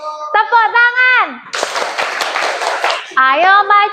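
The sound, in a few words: children clapping hands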